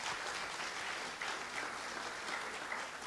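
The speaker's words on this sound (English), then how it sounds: "So give these ladies another hand clap." Audience hand clapping for women on a church Mother's Day panel, a steady, even wash of applause from a crowd, faint and continuous throughout.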